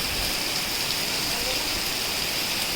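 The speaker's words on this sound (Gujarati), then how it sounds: "જો એકદમ મસ્ત મસ્ત વરસાદ આવી ગયો છે" Heavy rain pours down in a dense, constant hiss, loud and close, without a break from start to finish.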